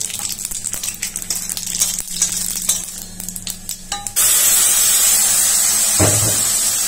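Cumin and radhuni seeds hit hot oil, and a loud, sudden, sustained hiss takes over after scattered clinks and light crackling, close and steady with no voices.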